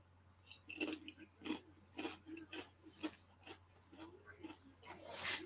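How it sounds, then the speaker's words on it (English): Soft chewing close to a microphone comes as a string of wet, uneven mouth sounds and small bites over a low steady hum, with quiet background noise between them. "Excuse the chewing sound."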